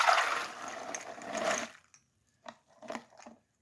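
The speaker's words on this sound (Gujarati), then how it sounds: "હવે એને આપણે ચાણીમાં નિતારી દઈશું" Soaked val beans tipped into a sieve, water pouring through in a steady splashing rush for about two seconds, then a few brief trickles and drips as the flow tapers off, fairly close.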